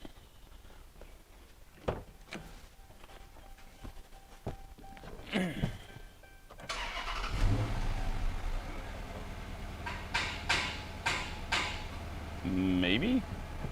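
An Audi V8 engine cranks and starts around the middle, then settles into a steady idle while it is checked for a misfire, with clicks and handling noises before it and a brief squeal near the end.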